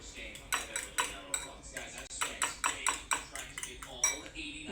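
Scrambled eggs whisked in a bowl with a utensil, salt added, giving a quick run of repeated clinks and scrapes against the bowl at close range, steady and rhythmic, with a voice speaking faintly in the background.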